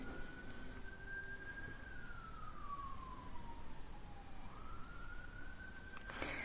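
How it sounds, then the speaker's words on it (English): A police siren wails faintly near a Garda station, one long slow rising and falling sweep that carries on for several seconds in the distance, heard from indoors without any talk over it. "You probably can hear the sirens."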